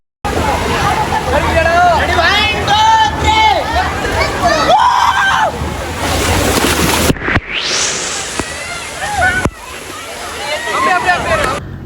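Water splashing at a small theme park water slide in Erode, with loud sloshing and surges mixed with lively crowd chatter and children's shrieks throughout.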